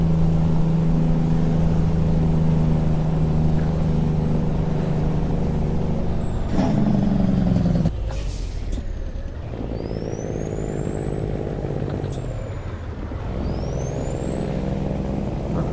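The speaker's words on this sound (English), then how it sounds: "I don't understand why that truck was braking there." Truck air brakes in a trucking video game, a steady engine drone with a loud hissing release partway through, followed by quieter whirring road noise.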